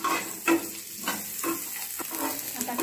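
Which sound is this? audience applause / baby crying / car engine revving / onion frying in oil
onion frying in oil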